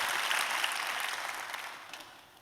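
A church congregation at a summer revival meeting applauds, a soft, distant patter of many hands that gradually fades away.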